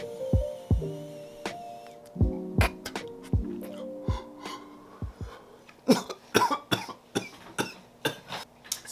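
Repeated harsh coughing fits after a hit from a Raw Garden distillate vape pen, a dense run of sharp bursts that starts spaced out and grows into rapid, clustered hacking, close and loud with no talk.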